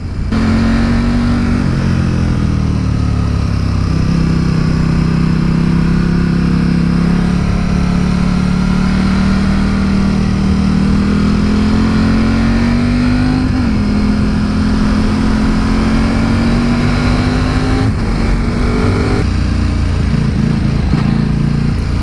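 Engine of a KTM RC8 sport motorcycle while riding, reportedly running poorly, a loud continuous drone that rises and falls steadily with speed and throttle, heavy wind rush throughout, no talking.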